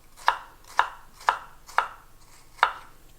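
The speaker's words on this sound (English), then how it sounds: "And with your knife, you basically start to do these very thin incisions." A chef's knife slices thin incisions into a shallot on a cutting board: five crisp, close knocks, the first four evenly spaced and the last after a short pause.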